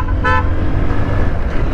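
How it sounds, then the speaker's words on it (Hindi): Short toot from a Hyundai i20 car horn on a busy road, a brief honk near the start over a steady motorcycle and traffic rumble. "I-20 हॉर्न मार रही है मुझे,"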